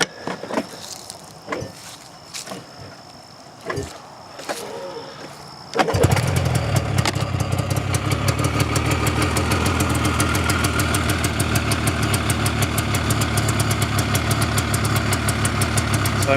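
A Yamaha YZ dirt bike, choke on and in need of a tune-up, starts on the first pull after a few scrapes, then settles into a loud, steady, rapid idle that runs alone for about ten seconds.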